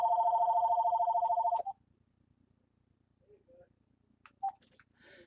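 A new office phone system ringing with a steady electronic trill that cuts off after under two seconds, followed by quiet room tone and a few faint clicks.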